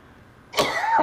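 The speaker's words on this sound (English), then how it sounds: "So I still have my awful cough." A single harsh cough from a person with a lingering bad cough, sudden and fairly loud against a quiet background, with a short trailing rasp.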